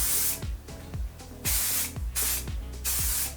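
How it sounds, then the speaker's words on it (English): An aerosol can of hair texture spray hisses in repeated short bursts onto hair, about six quick sprays in a row, close and fairly loud, with small clicks between them. "To finish this look, I'm first gonna hit it with some texture spray"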